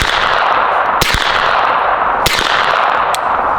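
Two sharp suppressed 9mm shots from a NEMO Mongoose pistol-caliber carbine ring off a steel target about 30 yards away, each a crisp crack with a metallic clang, then a fainter third hit, over steady outdoor background noise.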